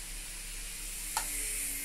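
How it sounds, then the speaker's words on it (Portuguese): Natural dog food for a German Shepherd boils in a pot, giving a steady, even hiss of bubbling and steam with one brief tap partway through. "Deixo ferver só uns 3 minutinhos."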